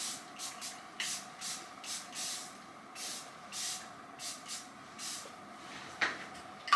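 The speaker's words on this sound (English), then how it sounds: "I'm gonna go in with the Charlotte Tilbury Airbrush Flawless Setting Spray." Charlotte Tilbury Airbrush Flawless setting spray is pumped in a steady series of about a dozen short, crisp mist bursts close to the microphone, with no talking.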